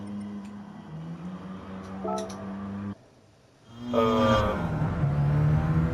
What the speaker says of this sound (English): Like the FD, it also has the audible over rev warning.